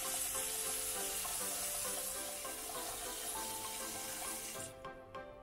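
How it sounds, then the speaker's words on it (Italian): Cold tap water runs continuously into a ramen stock pot holding bones and kombu seaweed, a steady bright splashing rush that shuts off near the end, leaving quiet drips. "E riempiamo di nuovo di acqua fredda fino a ricoprire il tutto."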